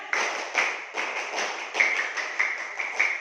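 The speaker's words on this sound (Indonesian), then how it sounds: "Lagi tepuk semangat." A class of schoolchildren performs another round of patterned spirit clapping, with crisp, closely spaced claps in rhythmic groups that sound loud and near.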